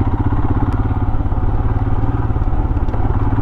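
Royal Enfield Himalayan motorcycle running off-road, its engine giving a steady, loud, close low thump with a throbbing rhythm throughout and a few light clatters on top.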